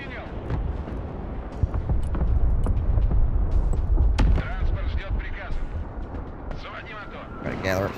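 Rocket artillery fires in the Broken Arrow war game, a dense rolling run of booms and blasts that swells in the middle, with someone speaking over the barrage.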